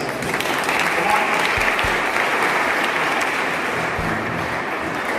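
A hall audience at a group headquarters programme applauds the children's results with steady, dense clapping that holds at an even level throughout, with no break.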